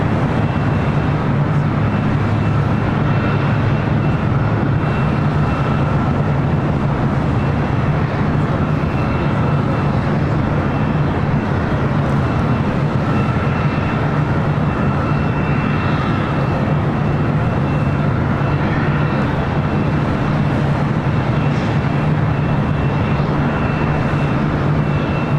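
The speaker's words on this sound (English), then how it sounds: "Now rolling down. Virgin A350-1000 heading back to London Heathrow," A Virgin Atlantic A350-1000 airliner rolls down LAX runway 25 right on takeoff, its jet engines producing a loud, unbroken roar that holds steady throughout with no talking.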